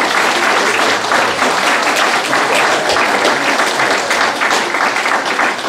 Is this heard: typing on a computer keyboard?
no